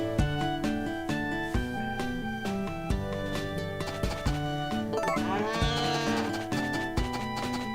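A cow moos repeatedly in Harvest Moon: A Wonderful Life, the cartoonish lowing sounding over a bouncy game music loop, clear and alone without talk.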